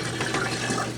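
Dried beans being rinsed under a running kitchen tap, the water gushing in a steady, continuous splash close by, with no voices.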